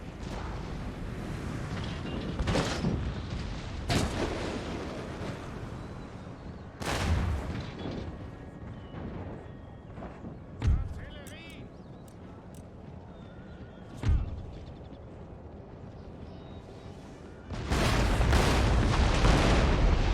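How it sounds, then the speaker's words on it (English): Cannon and howitzer fire in Empire: Total War booms out in sharp, scattered shots, some near and loud, others more distant, mixed with galloping hooves and horse whinnies, ending in a sustained roar of massed fire. "We'll focus down the cav first, I think, with the cannons."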